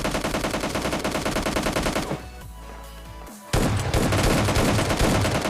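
Rapid automatic gunfire from the PUBG Mobile Lite mobile game rattles in loud, dense bursts, pauses for about a second and a half, then resumes in another burst.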